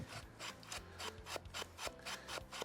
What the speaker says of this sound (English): We've made sure to take our screwdriver and really try to run that track out on the outside